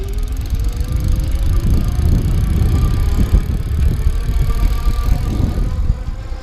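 A Juiced Bikes OceanCurrent electric bike rides under throttle, its motor whine and road rumble rising into a loud, continuous rush with light rattling, close up and without talk.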